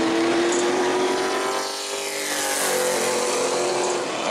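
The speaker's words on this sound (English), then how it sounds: "All right, so on the track now is going to be car number 9 for Matthew Kingsbury." Pro late model race car at New Smyrna circling the track in qualifying, its engine a loud sustained roar with a pitch that sags then climbs as it passes, steady and close throughout.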